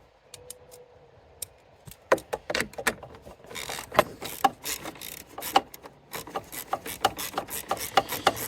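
A hose clamp tightened on the plastic airbox of a cold air intake kit for a 2021+ Hyundai i30N DCT: quiet handling, then a rapid run of close ratcheting clicks and rasping turns.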